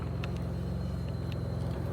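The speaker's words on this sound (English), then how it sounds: "I'm now idling smooth." A Mitsubishi GTO engine idles smoothly, a steady, even low rumble with a fine regular pulse, close and unbroken, with no talking.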